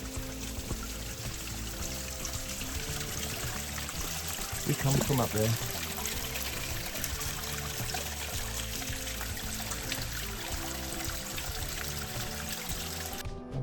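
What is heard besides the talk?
waterfall flowing, Lower Ballanjui Falls, Binna Burra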